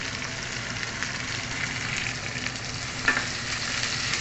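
Garlic sizzling and frying in a pan for a Filipino bamboo shoot dish, a steady crackling hiss throughout with a brief sharper spatter near the end, close and moderately quiet, no talk.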